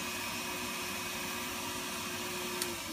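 A podiatry suction micromotor, adjustable up to 40,000 RPM, runs at speed with a steady, even whir and faint hum, continuous and fairly quiet throughout with one small tick near the end.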